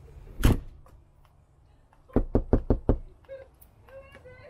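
Knuckles rap on the door of a Riverside Retro 189R RV: one loud knock, then a quick burst of five firm knocks, close by. Faint voices and small thumps follow.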